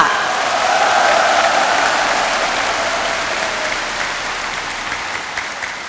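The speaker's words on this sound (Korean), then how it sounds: "여러분 힘찬 박수를 부탁드리겠습니다" A large audience at a disability rally in 2007 gives vigorous, sustained applause, a loud, dense roar of clapping that slowly eases over several seconds.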